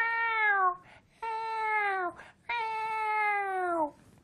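A human voice imitates a cat's meow three times, each drawn-out call sliding downward in pitch, clear and close with short pauses between them.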